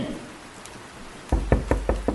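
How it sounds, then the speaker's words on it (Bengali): A door knocker bangs on a door on a rainy night, five sharp, evenly spaced knocks ringing out close and loud after a quiet moment of faint background rain. "কড়াও নাড়া দিল"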